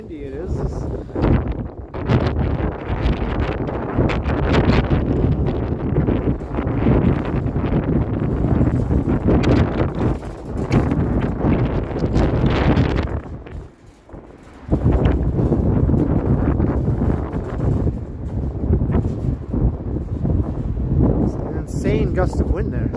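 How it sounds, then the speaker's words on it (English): Strong wind on a cold March day in downtown Toronto roars and buffets the microphone in loud, sustained gusts with a brief lull partway through, while a voice talks over it. "See how windy it is."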